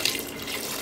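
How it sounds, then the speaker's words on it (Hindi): Water poured from a tap or jug splashes steadily into a pot of browned gosht cooked with spices, a brief, bright, continuous rush of liquid heard close up without talk. "अब हम इसमें हस्ब ज़रूरत पानी ऐड करेंगे।"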